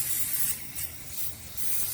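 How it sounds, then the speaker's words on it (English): Zep foaming citrus degreaser sprayed onto a car engine in a few short, close hissing bursts, with brief pauses between them. "Let me spray a little bit more right here"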